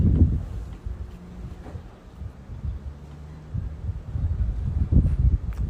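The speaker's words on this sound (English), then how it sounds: "It's windy out here on the prairie this morning." Gusty wind blows across open prairie on a morning, a low rumbling buffet against the microphone that swells and eases, with no other clear sounds.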